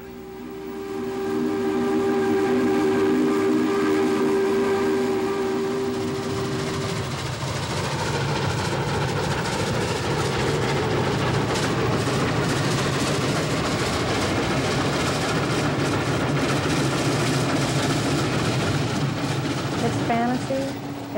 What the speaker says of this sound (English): They like to make the whistle talk.